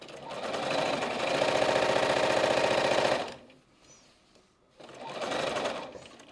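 A sewing machine stitches fabric in a steady rapid mechanical chatter for about three seconds, stops briefly, then runs again close and loud, with no talk.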